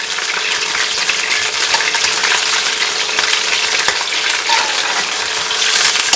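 Chicken frying in plenty of oil in a karahi, a loud, close, continuous sizzle with bright crackling spatter and faint stirring, no voices.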